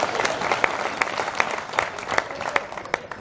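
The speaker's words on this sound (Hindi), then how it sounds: "ताली बजाओ एक बार जोरदार" An audience at a Hindi comic poetry gathering breaks into loud applause, a dense patter of many hands with sharper individual claps standing out throughout.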